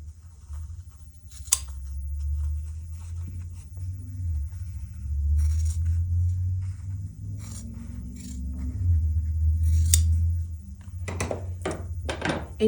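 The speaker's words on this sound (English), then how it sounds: "we are going to cut directly on the diagonal line" Quilt fabric is cut along the diagonal line between two sewn seams, giving a few sharp snips. Low rumbling handling noise runs underneath, and a quicker cluster of cuts comes near the end.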